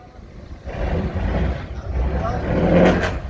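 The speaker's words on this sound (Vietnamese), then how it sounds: "Nghe máy nghe nổ nghe đã luôn nè." A sea boat's engine running in a shipyard as the boat is pulled in, giving a loud, steady, throbbing mechanical rumble that swells slightly toward the end, with no speech.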